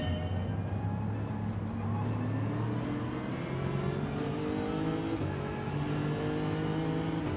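Race cars in Gran Turismo 7 accelerate off the line at a Manufacturers Cup race start, a loud, steady roar of several engines with rising pitch as they climb through the revs, sounding close and continuous.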